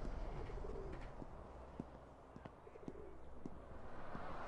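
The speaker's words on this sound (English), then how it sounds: "Ooh, pigeon." In the video game Mosaic, a pigeon coos softly and repeatedly against a faint, steady background hum, with occasional light ticks.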